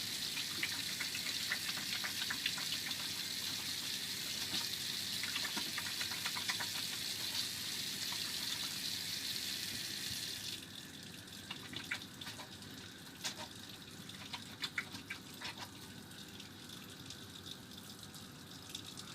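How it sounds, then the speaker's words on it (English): Tap water runs steadily while hands are washed beneath it, a close, broad splashing rush that drops to a quieter trickle with scattered drips and clatters partway through. "let me wash my hands"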